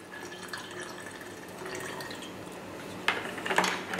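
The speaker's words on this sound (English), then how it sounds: "And then top that up with water as well." Water is poured into a homemade apple cider vinegar mix for natural shampoo and conditioner, a soft trickling fill that swells louder and splashier toward the end, close by with no talking.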